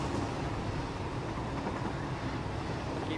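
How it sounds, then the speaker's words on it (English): A large coal train in Satisfactory rumbles past in a steady, loud low roar of wheels and wagons, unbroken for the whole stretch with no talk. "Big train there. That's a coal train."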